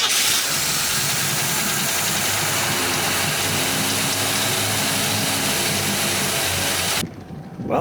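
A 1990 Cobalt boat engine idles while warming up on a lake, a loud, steady low rumble close by, running evenly before cutting down sharply near the end.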